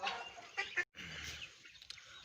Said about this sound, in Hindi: ये असील मुर्गे लड़ाई वाले मुर्गे हैं